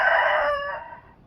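A rooster crows once, loud and close, its strained call fading away after about a second.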